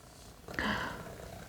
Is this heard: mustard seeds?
no